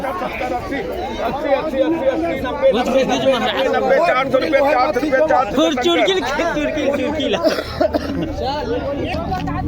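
Dense crowd chatter at a busy vegetable market in Kawardha, Chhattisgarh: many overlapping voices, coughs and bustle at close to medium range, continuous throughout.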